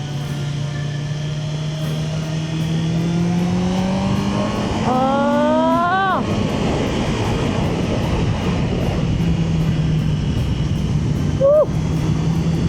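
A sport motorcycle engine running under way, a steady droning hum that climbs in pitch as it revs up, drops back, then gives another brief rise, with wind rush throughout.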